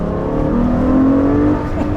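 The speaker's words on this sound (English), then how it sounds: "So let's just rev it a little bit with the window open." Ferrari F12 Berlinetta V12 revving in manual mode with the window open, a loud close engine note that climbs steadily in pitch, holds near the top, then eases off, with no talking over it.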